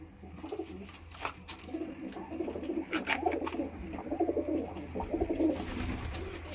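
Sialkoti black-faced pigeons coo steadily inside a coop, soft overlapping calls close by with a low droning background and no voices.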